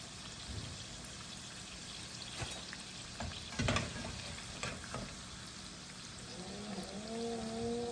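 Banana balls deep-frying in oil give a continuous soft sizzle, with a few louder bubbling and stirring bursts near the middle and faint tonal sounds toward the end. Nobody talks.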